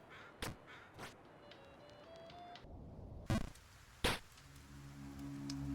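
A crow caws in the Jump King video game, several sharp, separate calls spaced over a few seconds against a quiet background with faint tonal game sounds, no one speaking.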